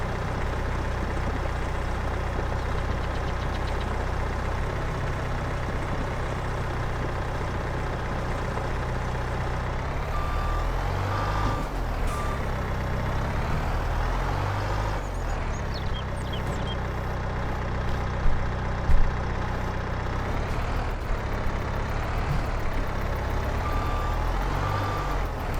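Farming Simulator 22 tractor engine rumbling steadily at idle and low load, with intermittent electronic reversing beeps repeating over a long stretch, close and without talk.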